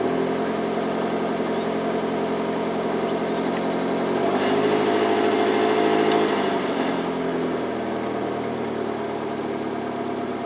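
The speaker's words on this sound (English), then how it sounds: "Give it a few revs." A 1988 Australian Mitsubishi Colt engine idles steadily, then revs up briefly, rising in pitch and dropping back to a rumbling idle.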